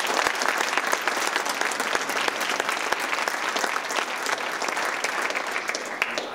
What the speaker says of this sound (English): Another round of applause for Janine Sijon.